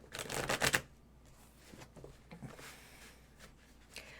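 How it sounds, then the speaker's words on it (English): A tarot card deck shuffled by hand, a quick burst of riffling card noise near the start, then quieter scattered rustles and taps of the cards. "I like the size of this deck. It's easy to shuffle."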